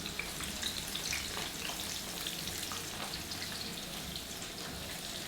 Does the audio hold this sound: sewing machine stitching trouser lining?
no